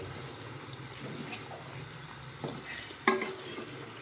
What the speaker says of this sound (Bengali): এবার আমি ওপর দিয়ে একটু ঘি দিয়ে দেবো। ঘিটা গলিয়ে নিয়েছি, গলিয়ে নিয়ে দিলাম।